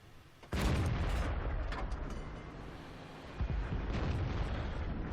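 A tank's ammo rack detonating in World of Tanks, a sudden loud blast that rolls into a long, heavy rumble, with a second surge of noise partway through.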